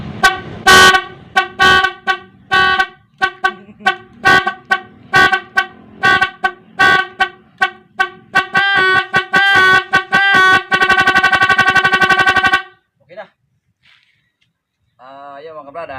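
Loud car horn from an aftermarket horn module honks in a rapid rhythmic pattern of repeated toots, speeding into a continuous blare before cutting off, followed by a few faint tones.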